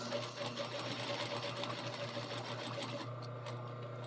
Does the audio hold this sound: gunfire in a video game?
no